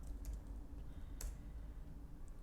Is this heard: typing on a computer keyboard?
yes